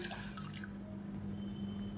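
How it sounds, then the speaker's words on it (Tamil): Water is poured into a pressure cooker holding washed moong dal, a steady close splashing and trickling pour that fills the whole moment with constant liquid noise and no talking. "ஒரு ஒரு கப் அளவுக்கு தண்ணி ஊற்றுனீங்கன்னா போதும்"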